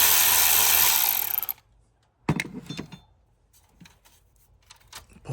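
A ratchet with a 10 mm socket works a bolt loose while an alternator is replaced on a Buick LeSabre. A loud hiss cuts off abruptly, then a sharp metallic clack is followed by sparse clicks and rattles.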